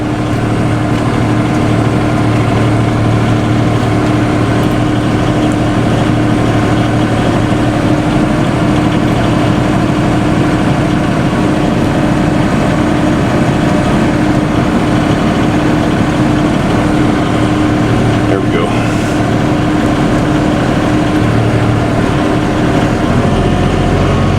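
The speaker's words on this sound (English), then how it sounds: "Set the PTO RPM, got it up, get up to 540, I think it is." Tractor engine holding a steady drone with the PTO engaged at 540 RPM, heard up close as a loud continuous hum that stays constant throughout with no talk.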